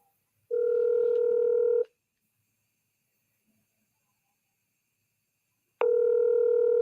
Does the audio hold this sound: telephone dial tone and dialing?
yes